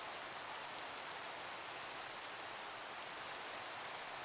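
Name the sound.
rain in a video game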